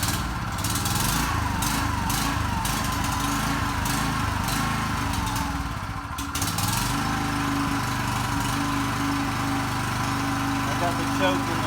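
A Champion open-frame dual fuel 3500 W inverter generator runs steadily after being pull-started, a continuous close mechanical engine drone with a brief dip midway and talk over it.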